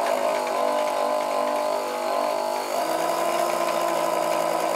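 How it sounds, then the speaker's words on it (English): Small Meccano electric motor running on a 1949 Meccano T20 20V AC transformer with a slightly slipping drive belt, a loud steady whirring drone that shifts pitch partway through. "No, I think it's the motor that's slipping."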